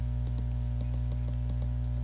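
Computer keyboard keys tapped in short irregular clusters of clicks, close and fairly crisp over a steady electrical hum, with no talking.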